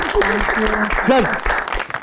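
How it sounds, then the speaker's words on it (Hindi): Applause from a TV talk show studio audience plays under speech, with clapping mixed with voices talking over it throughout. "बहुत सारी तालियां"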